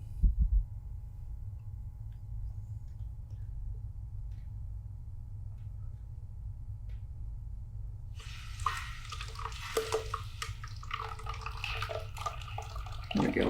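Water trickles slowly from the drain valve of an air compressor, a low steady rumble that turns into a brighter splattering, sputtering flow partway through, quiet and without talk.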